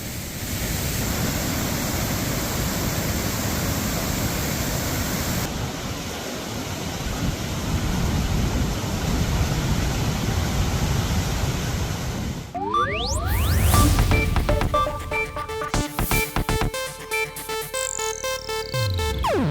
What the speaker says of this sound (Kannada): ಕಲ್ಲು ಬಂಡೆಗಳಿಂದ ರಭಸದಲ್ಲಿ ನೀರು ಧುಮ್ಮಿಕ್ತಾ ಇರುವಂತಹ ದೃಶ್ಯವನ್ನು ನೋಡ್ತಾ ಇದ್ದೀವಿ